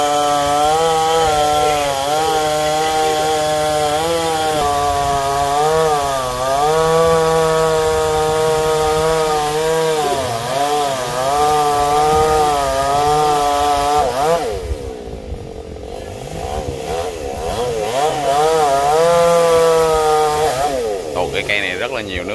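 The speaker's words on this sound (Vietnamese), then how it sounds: "anh sẽ cưa khoảng một lóng nữa là xong nha các bạn" A chainsaw cuts through a golden oak tree beside a fence, a loud, close, continuous engine drone whose pitch rises and sags as the chain bites and revs, with a brief easing partway through.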